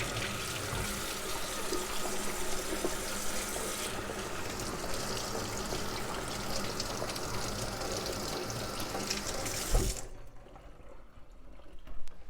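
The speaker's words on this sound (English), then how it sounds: "Wash my hands real quick." Water runs steadily from a kitchen tap as hands are rinsed under it while making banana bread, a continuous close splashing stream lasting about ten seconds before it cuts off, leaving quiet room noise.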